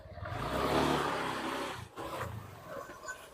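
A nearby motorcycle engine roars loudly as it revs, dips for a moment, then picks back up with a lower, rougher growl.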